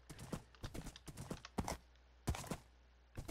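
Horse hooves clip-clop in a Minecraft mod game, a few quick bursts of close, crisp hoofbeats separated by short pauses, heard on their own without talk.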